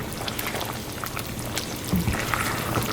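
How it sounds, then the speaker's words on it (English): Thick beef stroganoff simmers in a covered pot, giving a soft, steady bubbling and liquid churn as it is stirred, faint and continuous with no talking. "I'm gonna stir it up some."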